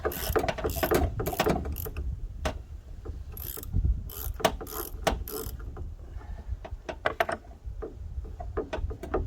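A socket wrench ratchets while loosening the oil drain plug on a Fiat 500. Close, repeated mechanical clicks and clunks come in irregular bursts, with metallic rattles between them.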